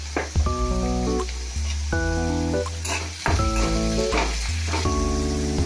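Sliced onions with a pinch of salt sauté in a hot pan for egg curry, giving a steady close sizzle with stirring scrapes. Loud background music plays over the cooking throughout.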